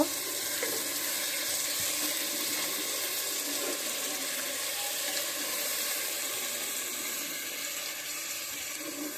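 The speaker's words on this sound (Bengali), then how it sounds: "সামান্য একটু জল দিয়ে দেবো" Water pours steadily into a cooking pot of potatoes and eggs for biryani, a continuous close splashing flow with no voices.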